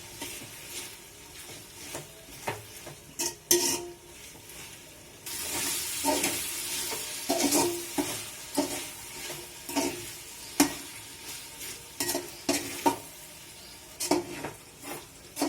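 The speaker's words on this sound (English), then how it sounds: "You need to keep on frying." Ginger garlic paste sizzles steadily in a hot pan for chicken biryani while a utensil scrapes and clinks against it in repeated stirring strokes.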